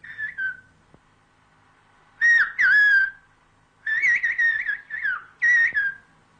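Pyrenean whistled language: a series of sharp, melodic whistled phrases with rising and falling pitch glides, given in short separate bursts with brief pauses, clear and close against a quiet background.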